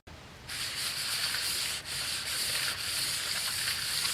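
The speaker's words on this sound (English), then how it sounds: "I think we're going to move down to a lighter set of sandpaper." Lighter-grit sandpaper scrubs a part from a 1971 Johnson 4hp outboard in steady, close, continuous rasping strokes with brief dips between passes, and no one speaks.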